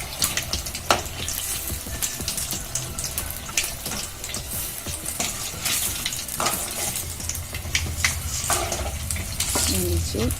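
Egg bondas fry in hot oil with a steady crackling sizzle, broken by scraping ladle strokes as they are turned; the frying holds close and even throughout, with occasional louder clinks.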